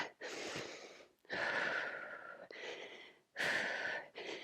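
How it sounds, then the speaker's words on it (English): Heavy, audible breaths come in four long bursts with short pauses between them during a low-impact curtsy lunge pulse cardio exercise, close and fairly loud with no talking. "Listen for your breath."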